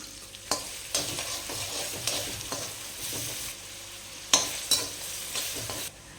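Two green chillies and chopped onions fry in hot oil, a soft steady sizzle broken by repeated sharp scrapes and clatters as they are stirred, close and alone without talk.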